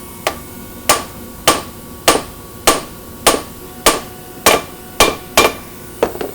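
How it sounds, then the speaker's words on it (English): Sharp metallic hammer blows strike at a steady, even pace, about ten ringing hits in a row, close and loud with no talking, as valve seat inserts are hammered into a Ford Crossflow cylinder head. "And then we're just going to start hammering the seats."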